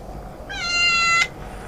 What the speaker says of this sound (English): Morris is the RV, the park cat, and he's, curious.